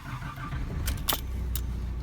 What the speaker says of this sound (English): What I'll do now is turn and start the car on.